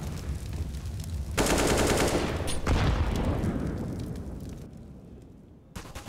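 Rifle fire in Counter-Strike on the Anubis map during a NaVi versus Liquid match: a dense, loud burst of gunshots with a sharp crack, trailing into a long decaying boom before a brief final pop.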